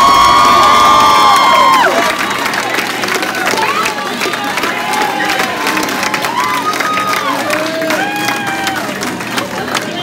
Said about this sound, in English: Let's hear it for our football king, Brighton Barna.